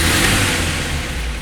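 A combustion-engine car revving loudly and close, a dense continuous roar filling the whole clip with no talking.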